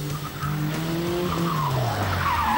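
A sprint car at a c1995 car sprint in Longton launches from the start line, its engine revving up steadily and loudly with tire squeal, nearby and alone.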